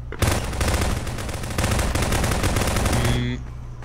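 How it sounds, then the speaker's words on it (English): Rapid automatic gunfire in the video game Garry's Mod Prop Hunt rattles in a dense, nonstop burst for about three seconds before cutting off abruptly, loud and close, with faint voices beneath. "Someone's shooting like a madman."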